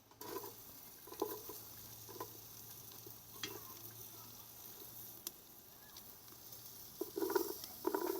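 Onions drop into half a stick of softened, melted butter in a pot outdoors, giving a soft low sizzle with scattered stirring scrapes and taps, faint and close, growing busier toward the end.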